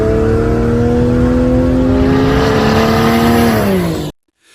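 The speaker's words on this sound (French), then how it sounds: "il coupe l'échappement en deux, démarre la voiture et bien sûr le bruit devient assourdissant et totalement différent" A 2023 Mercedes-Benz G 63 with its exhaust cut in half runs with a loud, deafening engine roar that holds steady, sags slightly in pitch, then cuts off abruptly near the end, leaving brief silence.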